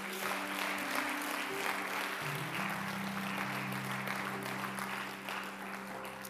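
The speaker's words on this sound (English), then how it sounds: "Give the Lord a hand clap." A church congregation claps hands together in a dense, continuous patter of applause that stays steady throughout, with sustained organ or keyboard tones humming beneath.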